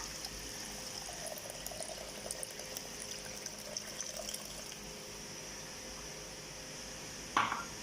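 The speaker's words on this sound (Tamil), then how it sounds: "புளி கரைச்சல் ஊற்றிட்டு மீடியம் ஃப்ளேம் வச்சுக்கோங்க" Tamarind and salt water is poured into a pan of anchovy fish curry (naethili meen kuzhambu), giving a faint, steady trickling wash of liquid that ends with a brief louder splash.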